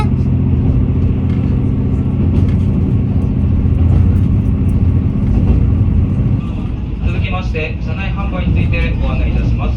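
The Hanayome Noren, a JR West diesel railcar, runs along the track from Kanazawa toward Wakura Onsen, with a steady loud engine and wheel rumble heard from inside the cabin and a rhythmic rattling clatter in the final seconds.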